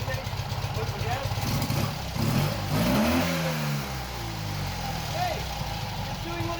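A classic Fiat 500 with a freshly swapped engine revs up, rising pitch sweeps climbing and falling mid-clip over a steady idle rumble, with someone talking nearby.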